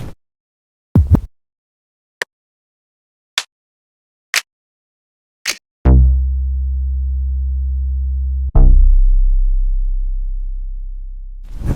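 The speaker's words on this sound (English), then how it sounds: "some of my favorite sound effects and synth basses." Synth bass and sound effect samples from a hip-hop drum kit play one after another: a series of short, sharp electronic hits, then two long, deep, sustained sub-bass notes that ring out and slowly fade, with no voices.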